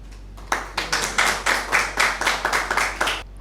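Audience at a Father's Day mushaira poetry gathering applauds, a steady run of loud, close claps from a small crowd lasting about three seconds over a low electrical hum.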